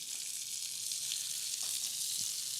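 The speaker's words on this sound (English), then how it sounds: "Hear that sizzle?" Onions, garlic, leeks and other alliums sizzling as they fry in a pan, a steady bright hiss with no voices, close and even throughout.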